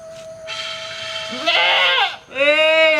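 A goat bleats loudly nearby, a long wavering cry followed by a shorter sharp bleat, over a faint background hum.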